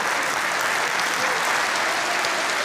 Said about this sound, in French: Alors que vous entendez les applaudissements pour